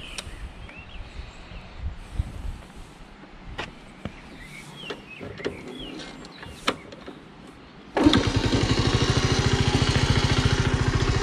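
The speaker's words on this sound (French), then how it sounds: "je vais appuyer sur le kick" A motorcycle being kick-started: scattered mechanical clunks and clicks at first, then the engine catches and runs with a loud, steady, rapid thumping idle.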